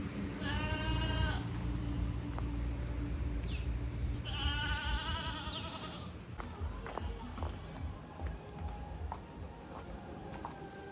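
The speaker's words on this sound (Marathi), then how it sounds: "इकडं बकरीचं शेड आहे ना" Goats in a goat shed bleat loudly and close by, two or three wavering calls in the first half, over a steady low engine-like hum and faint background voices.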